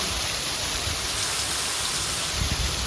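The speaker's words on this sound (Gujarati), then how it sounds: "જો અંધરાધાર વરસાદ આવે" Heavy rain pours down in a dense, steady hiss, close and loud, with no pauses throughout.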